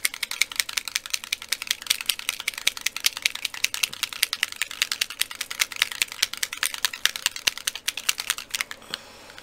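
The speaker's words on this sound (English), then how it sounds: "they have a ball in them, so you've got to shake them" A small item with a ball inside, an earring-making supply, is shaken steadily, giving a dense run of quick, light, clicking rattles close to the microphone for several seconds before stopping.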